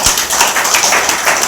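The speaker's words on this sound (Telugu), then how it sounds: "ఒకసారి మేడం క్లాప్ ఇస్తారా?" Several people at an indoor meeting clap together in a loud, dense burst of overlapping hand claps lasting just over a second, with no voices over it.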